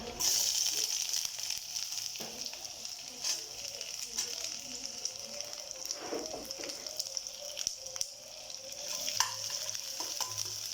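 Steady sizzling of onions and green chili frying in a pan, with occasional stirring scrapes, continuous and close throughout.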